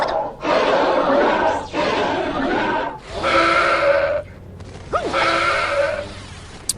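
Tusken Raiders (sand people) in the Star Wars Jedi Knight: Jedi Academy video game let out loud, harsh, braying yells, several bursts in a row with short gaps, close and overbearing like a shouting crowd.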